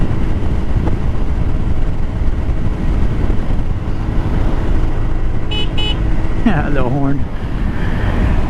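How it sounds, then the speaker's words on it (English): An Icebear Hawkeye 150cc scooter sounds its horn in a short nasal beep, heard above the steady roar of riding wind and engine on a country road, followed by a voice. "The horn sounds the same, just like it would on the 50cc."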